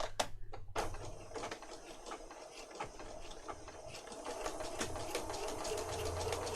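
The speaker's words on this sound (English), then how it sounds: "I'm just going to sew around there quite quickly." A sewing machine stitching around a journal file folder runs in a quiet, rapid mechanical patter, close but faint, after a few sharp handling clicks at the start.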